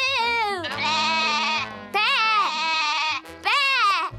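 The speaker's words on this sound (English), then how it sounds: "What's the matter, goat? It wants some food." A cartoon goat bleats in several long, wavering, nasal calls separated by brief pauses, loud and close, with a musical background tone underneath.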